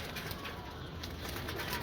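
Pigeons coo softly and steadily in a small pigeon and quail breeder setup, a low continuous murmur over faint background noise throughout.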